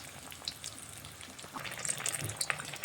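A chop frying in hot oil until it turns reddish, a steady soft sizzle with scattered crackles and pops that grow busier toward the end.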